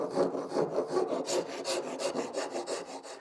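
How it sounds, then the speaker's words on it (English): Sandpaper on a scrap-wood sanding block rubs back and forth over wood in a steady rhythm of about a dozen quick rasping strokes, close and fairly quiet. "you can reposition the sanding block to do the same kind of work along the front edge"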